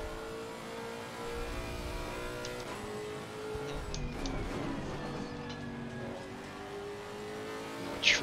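A race car engine lapping Imola in a racing video game, a steady droning engine note with rising and falling pitch as it accelerates and shifts, fairly quiet throughout.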